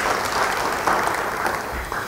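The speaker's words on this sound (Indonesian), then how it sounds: "Beri tepuk tangan bagi dia." Dense applause from a church congregation fills the moment, many hands clapping together in an even, unbroken burst.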